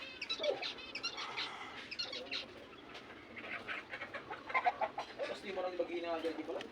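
A hen clucks among her newly hatched chicks, with soft repeated clucks and thin peeping chirps close by, fairly quiet, while people talk over them.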